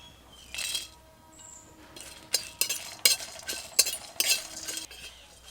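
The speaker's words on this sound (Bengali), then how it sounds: "প্রথমেই কড়াইতে শুকনো লঙ্কা, এলাচ, লবঙ্গ, দারচিনি আর বড় এলাচ দিয়ে ভেজে নেব।" Whole spices, including dried chillies, cardamom, cloves, cinnamon and black cardamom, are dry-roasted and stirred in a kadai, making quiet gaps broken by bursts of rattling, scraping and metallic clinks that grow busier toward the end.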